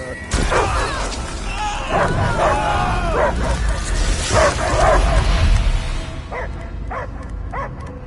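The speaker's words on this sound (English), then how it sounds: "I hear only barking." A possessed dog creature barks in Marvel's Guardians of the Galaxy video game, with several loud yipping and bow-wow barks amid game sound, then a few sharper, fainter barks near the end.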